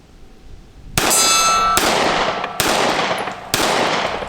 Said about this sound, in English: shoot 5 out of the P365 now